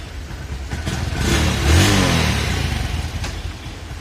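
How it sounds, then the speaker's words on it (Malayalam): A two-wheeler restarted after stalling in first gear: the engine catches and revs up loudly for a moment near the middle, then settles back to a steady running drone, close by and with no voices. "സോ ഞാൻ ഒന്നും കൂടെ വണ്ടി സ്റ്റാർട്ട് ചെയ്യാണ്."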